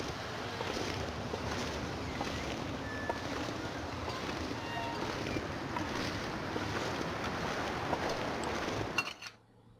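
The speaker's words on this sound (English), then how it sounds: "Oh, it is windy. Windy, windy, windy." Wind roars steadily in the survival game The Long Dark, a broad, constant gusting rush that carries on with no talk before it cuts off abruptly near the end.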